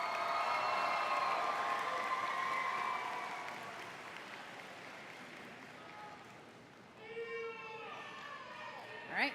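A crowd at a high school graduation ceremony in Akron claps for graduates, with steady applause and scattered cheers and whoops that gradually fade. Voices and a few loud shouts rise near the end.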